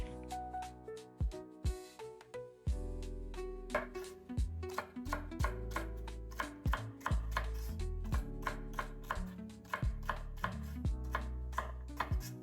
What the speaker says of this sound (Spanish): Yo aquí cortando los vegetales con precisión